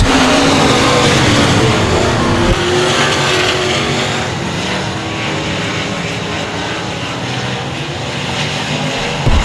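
Dirt track race cars thunder down the front straightaway, a loud, continuous roar of several engines passing close by, swelling and easing slightly without a break.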